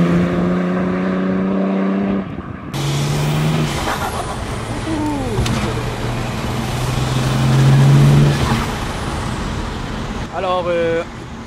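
A tuned BMW 330Cd E46 with a stage 3 remap accelerates hard, its engine note climbing through rising sweeps with a gear change, loud and close, while people talk over it.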